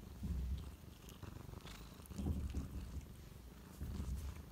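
A black kitten purrs steadily close to the microphone, a low continuous rumbling with soft rhythmic swells and no voices.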